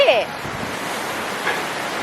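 Sea surf washing onto a beach on Ko Samet island in Thailand, a steady close rush of breaking waves with wind buffeting the microphone and a brief faint sound at the start.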